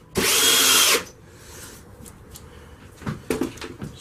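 A power drill drives screws into bone blade pieces, one loud sustained burst up close, followed by quieter clatter and knocks of parts being handled, no talking.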